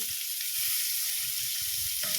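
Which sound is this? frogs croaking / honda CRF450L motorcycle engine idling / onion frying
onion frying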